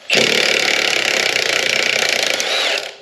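A MAP gas torch heating a rusted ball joint on a 1999-2004 Jeep Grand Cherokee WJ, giving a loud, steady roaring hiss that runs unbroken for nearly three seconds before cutting off.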